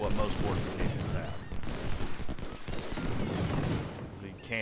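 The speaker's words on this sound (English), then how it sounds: "cannons are just going to rip them apart" Cannon and rifle fire from the Ultimate General: Civil War battle at Shiloh: loud, continuous booming volleys and crackling gunfire with dense low rumble, a voice talking over the barrage.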